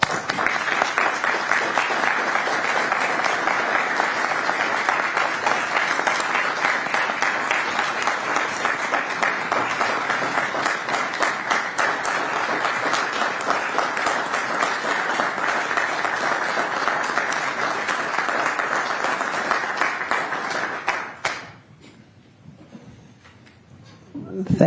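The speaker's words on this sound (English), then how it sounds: "If you'd all join me in an applause for Councilmember Dorr," An audience at a city council meeting applauds for a councilmember in a dense, sustained burst of clapping that goes on for about twenty seconds before fading out.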